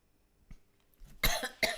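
A few short, dry coughs close up, quiet at first and then two louder bursts in quick succession.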